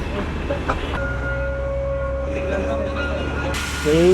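Darjeeling Toy Train in motion through clouds on a hill climb, a steady low rumble with a drawn-out tonal whine running under it, rising in level near the end.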